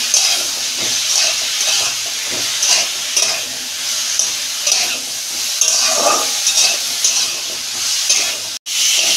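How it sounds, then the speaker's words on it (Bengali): Mixed vegetables, without potato, fry in a pan with a steady hiss and sizzle, broken by frequent close stirring scrapes; no one speaks. "আমার সবজি ভাজা হয়ে গেছে"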